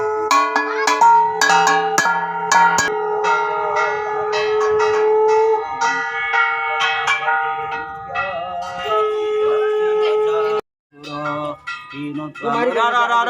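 A bell is rung repeatedly during a Ganesh Chaturthi puja in Odisha, quick irregular strokes of bright metallic clangs with long ringing overtones, while voices murmur faintly beneath.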